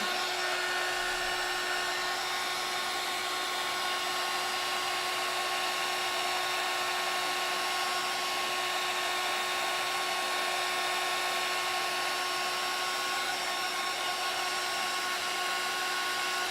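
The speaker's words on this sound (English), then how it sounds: "Keep your heat tool moving so it doesn't bubble up." An electric heat tool melts bronze embossing powder on a denim-stamped handmade card, producing a close, steady, loud whirring blow with a faint whine that runs unbroken throughout and has no speech over it.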